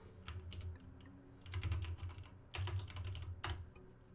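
Keys clatter on a computer keyboard in quick bursts of typing with short pauses between, close and moderately loud, with no talking.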